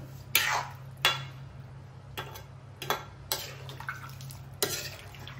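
A spoon stirs a pot of dried-fish and eggplant curry with tomato and potato just after water has been added. About six sharp metal clinks and scrapes come at irregular intervals, close but fairly quiet, over a low steady hum, with no talking.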